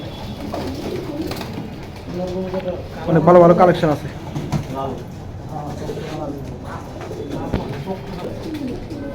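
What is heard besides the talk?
pigeons cooing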